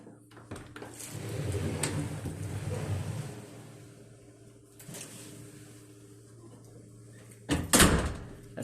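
A front door fitted with a Rutland door closer is opened and swung shut. A long rushing swell comes first, then a fainter knock, and a firm latching thump lands near the end, with no talk over it.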